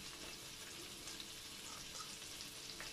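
A cardamom pod and a cinnamon stick sizzle in an oil and butter mixture, a faint, even crackling hiss that runs steadily throughout with no talk.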